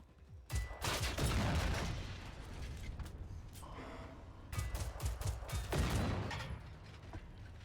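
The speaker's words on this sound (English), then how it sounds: "He is back, trying to shoot at me from up here now" Gunfire from an enemy in the video game Generation Zero comes in loud, dense bursts of rapid shots with booming echoes, separated by a brief lull.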